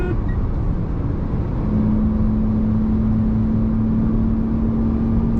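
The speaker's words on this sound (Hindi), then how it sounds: "बस विंड नॉइज़ आएगी बाहर विंडो से क्योंकि स्पीड बढ़" Wind noise inside a moving Tata Tiago i-CNG with AMT at speed: a constant broad rush of air and road rumble fills the cabin, and a low steady drone joins partway through.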